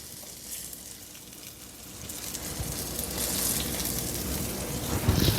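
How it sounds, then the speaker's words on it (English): Largemouth bass fillets sizzle and crackle in butter and herbs in a hot pan, the frying hiss growing louder and denser over a few seconds with no voices. "Love that delicious sizzle, the smell of the butter and the herbs."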